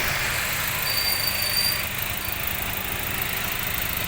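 Engine of a 2017 Daihatsu Xenia X manual MPV idling, a steady, close, even rumble with no talk.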